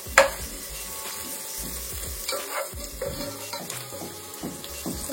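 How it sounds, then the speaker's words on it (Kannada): Onions fry in a pan for paneer masala, sizzling softly and steadily while a utensil stirs with scrapes and occasional sharp knocks against the metal, heard close and without speech. "ಈಗ ಆನಿಯನ್ ಫ್ರೈ ಮಾಡೋಣ"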